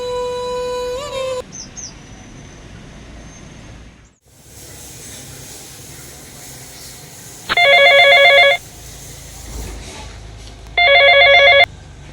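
A telephone rings in two separate electronic bursts, each about a second long, with a long quiet stretch of faint room noise between them and a brief chiming tone at the very start.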